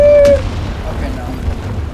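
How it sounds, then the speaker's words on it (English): A grenade detonating in a Vietnam War shooter video game, a loud sharp blast at the start that decays into a low rumbling tail, with faint game ambience behind it. "I think I just killed myself with that grenade"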